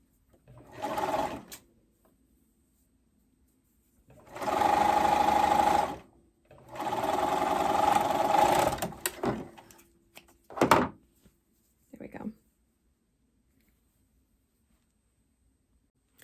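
A sewing machine runs in several bursts, top stitching binding close to the edge of a garment, with two long steady stitching runs between short starts and stops, near and clear with no talking.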